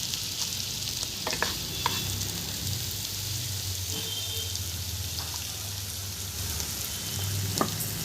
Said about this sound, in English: Next I'm adding in half chopped green capsicum.